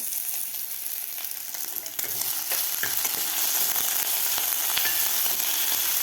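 Garlic and grated ginger sautéing in a pan, a bright continuous sizzle that grows slightly louder after a stir, with occasional soft spoon scrapes, close and without talk.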